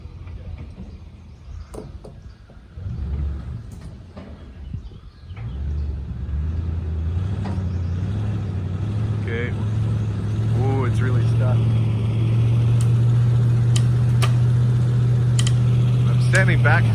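A four-wheel-drive truck's engine rumbles and then revs up into a sustained, rising drone as it strains to pull an old truck buried in the forest. People talk over it near the start.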